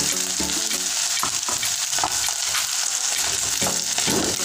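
A mixture containing shrimp powder frying in a pan and being stirred, with a loud, steady sizzle and scraping strokes running throughout and no talking.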